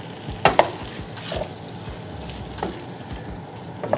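Onions go into a pan of beef for a beef tofu dish and are stirred, with a low continuous sizzle under several sharp utensil clinks and scrapes against the pan.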